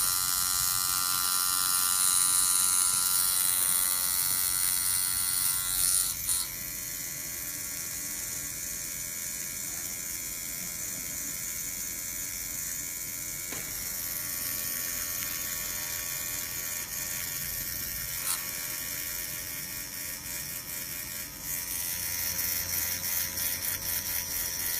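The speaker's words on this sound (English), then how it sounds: "this machine is one of the last ones alive who make noises" A tattoo machine buzzes continuously at moderate volume during a live tattooing session, with a steady electric whine that shifts pitch slightly a few times; no talking.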